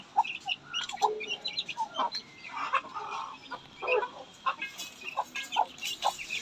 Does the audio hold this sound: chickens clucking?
yes